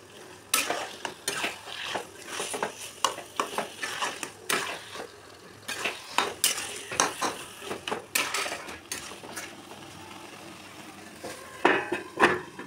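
Taro greens with coconut and boiled chickpeas stirred in a pan, with repeated close scraping and clanking of a spatula against metal over a light sizzle, in irregular bursts and no speech.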